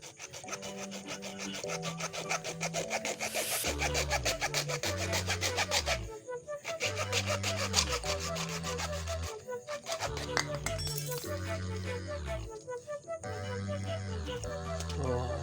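Steady back-and-forth hand saw strokes cutting through PVC pipe during a faucet installation, rhythmic and close, with a brief pause midway before the strokes resume.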